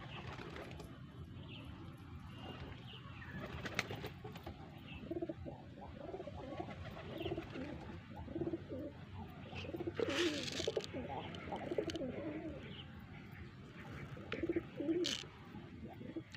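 Pigeons coo in soft, repeated low calls spread across the scene, with faint flutters and a voice calling in the background of an outdoor rooftop-like setting.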